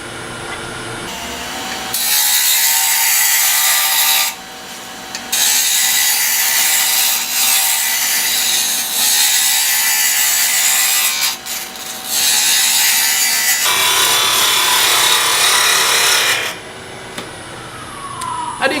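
A wooden tool handle turns on a lathe as a cutting tool shaves the spinning wood, producing a loud, continuous hissing rasp in long passes broken by short pauses when the tool lifts off.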